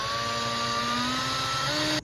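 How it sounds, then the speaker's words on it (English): A power drill whines steadily at close range for about two seconds, test-drilling into the floor of a 2005 Chevy Astro van, its pitch rising slightly before it cuts off abruptly. "We are gonna do a test drill spot before we do the big holes"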